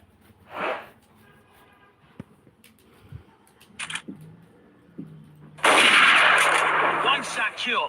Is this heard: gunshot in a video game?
yes